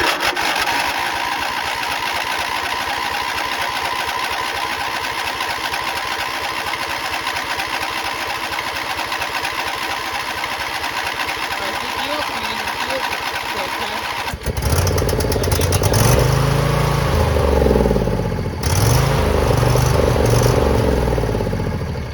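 A neglected John Deere's small engine turns over and runs, a loud, steady rattling chug that changes abruptly partway through into a rougher, lower throbbing with clattering, recorded up close.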